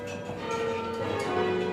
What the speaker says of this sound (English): Chris Tennant's one of thousands of bell ringers who want to make sure you do